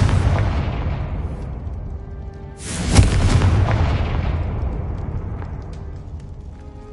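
In the Hogwarts Legacy video game, a Confringo spell sets off a single loud, booming explosion about midway, preceded by a rushing whoosh and trailing into a long rumbling decay.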